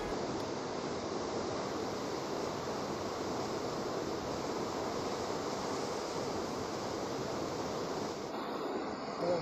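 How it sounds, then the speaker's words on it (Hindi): Steady, dense rush of falling water, loud and continuous throughout with no pauses, like a nearby waterfall pouring without a break. "आप झरने की आवाज़ सुनिए, मदमस्त हो जाएंगे।"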